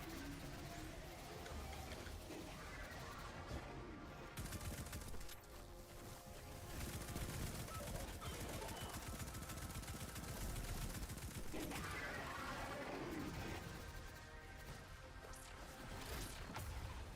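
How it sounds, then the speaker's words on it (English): Dense gunfire from the video game Destiny 2 runs in sustained bursts and rapid volleys for the whole stretch, steady and loud, with voices at times underneath. "Okay, now we shoot."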